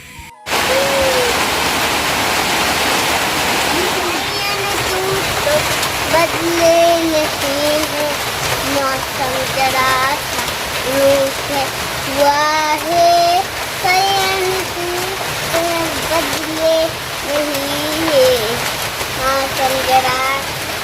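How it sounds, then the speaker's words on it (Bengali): Steady rain hisses throughout while a voice sings and talks over the downpour. "এদিকে আবার বৃষ্টিও চলে আসলো"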